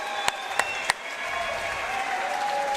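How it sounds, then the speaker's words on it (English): Arena crowd applauding after a mixed martial arts bout that ended in a rear naked choke submission, a steady wash of clapping with a few sharp individual claps near the start, sustained and fairly loud without speech. "How about a round of applause for both of these men?"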